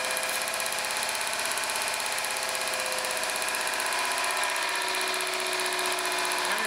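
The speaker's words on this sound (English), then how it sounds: "I can also rev it up a little bit and see what we have at the higher RPM" A running car engine held at raised RPM during a compression test, a steady, even buzzing drone with no talk over it.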